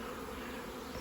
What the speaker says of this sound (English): there's lots of bees in there